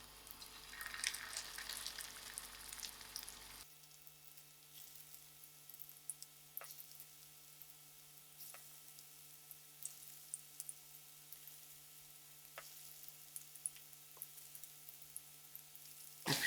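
Chicken kebabs frying in a hot pan, a steady soft sizzle throughout with occasional faint ticks and pops, fairly quiet and close, no talking.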